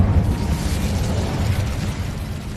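A fire spell cast in Hogwarts Legacy, a steady low roaring whoosh of flame that stays loud and close throughout, with no voices over it.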